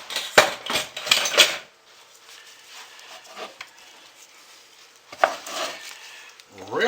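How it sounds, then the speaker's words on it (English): A spatula scrapes out a container, opening with loud, quick clattering scrapes, then settling into softer, intermittent scraping before a few more sharp scrapes near the end. "let's get my spatula and we will scrape this out"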